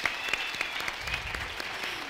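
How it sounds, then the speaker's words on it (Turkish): Audience applause at the SFZ Istanbul 2016 conference: dense, even clapping from a crowd, moderately loud and continuous. "Ona da bir destek olup bir alkışlasak mı acaba Gülnur'u?"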